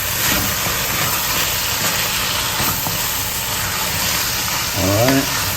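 Wine deglazing a pan of Bolognese meat sauce, giving a loud steady hiss and sizzle with stirring scrapes and a brief tonal burst near the end.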